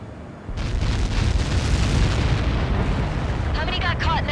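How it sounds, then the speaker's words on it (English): A missile impact explosion in the video game Ace Combat 7 erupts as a massive sustained rumbling boom that swells and rolls on for seconds, with a brief chirping tone near the end. "How many got caught in that explosion?"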